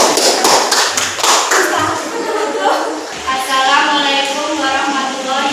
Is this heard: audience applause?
yes